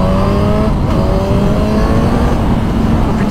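A 2021 Suzuki GSX-S1000 motorcycle held in third gear gives a steady, loud engine drone with rising harmonic whine throughout, close up, accelerating smoothly without pause and with no talking.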